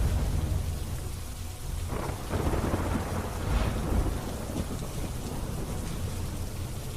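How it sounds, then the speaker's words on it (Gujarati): Heavy monsoon downpour over villages near Dhoraji in Saurashtra, Gujarat, with rolling thunder: a dense, steady roar of rain close by, swelling with deep rumbles in the middle and continuing unbroken throughout. "ચીચોડ સહિતના ગામડાઓમાં ધોધમાર વરસાદ પડી રહ્યો છે"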